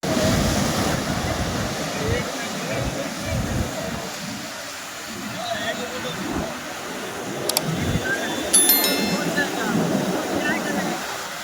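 Sea waves wash onto the beach at Puri in a continuous loud surf roar with repeated surges and breaking swells, as people talk and call out nearby over the water.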